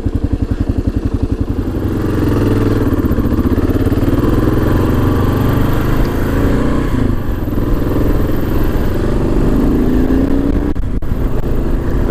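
A Kawasaki KLR 650 motorcycle idles with a lumpy single-cylinder chug, then the throttle opens and the engine holds a loud, smooth, sustained rev close by.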